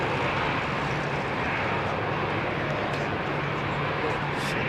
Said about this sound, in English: Finnair's nicely turned out, 350 making its way out.